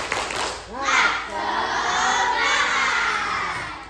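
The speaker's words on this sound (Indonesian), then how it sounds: "Coba kita tepuk semangat sekali lagi" A group of schoolchildren in a classroom lesson shout a rhythmic 'tepuk semangat' spirit chant together, loud and close, their voices rising into a sustained cheer.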